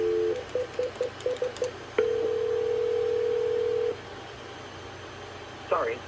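A Cisco 7965 IP phone sounds a string of short, evenly spaced tones, then one long, steady tone lasting about two seconds, followed by quiet and a brief final chirp.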